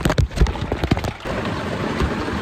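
Rain patters and splashes on a surface, with irregular heavier drops hitting up close at first, then settling into a steady, dense shower.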